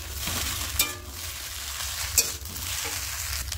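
Chili, turmeric and cumin powder frying and sizzling in a pan for homemade egg chowmein, a continuous close hiss with two sharp scraping clinks of a spatula stirring.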